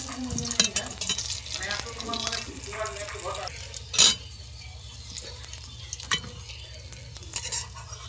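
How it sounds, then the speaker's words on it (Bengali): Eggplant slices frying in a pan, a soft sizzle under occasional spatula scrapes and clinks against the pan, with a louder clatter midway. "সব বেগুন কটা ভাজা হয়ে গেছে তুলে নেবো"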